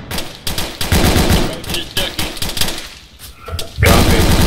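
Bursts of automatic gunfire and heavy rocket impacts from a military shooter game, RPGs among them, in loud repeated volleys with short gaps and a final sustained blast.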